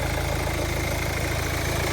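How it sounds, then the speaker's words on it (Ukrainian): A Kia Sportage 2.0 CRDi diesel engine idles smoothly, a steady even rhythmic rumble with no misses, continuous and close for the whole stretch. "Мотор працює чітко, рівненько"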